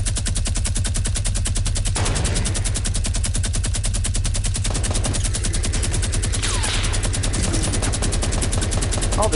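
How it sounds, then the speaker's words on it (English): Enemy automatic gunfire in an online shooter game, a loud continuous rattle of rapid shots running the whole time, with sharper cracks and a whizzing streak partway through. "Oh, they're shooting at me."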